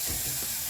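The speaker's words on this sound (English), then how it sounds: "I'll go in with my carrots. Then I'm going to fry this till the cooking oil turns orange." Carrots frying in hot cooking oil give off a dense, steady sizzle and hiss, close and fairly loud, heard briefly on their own with no voices.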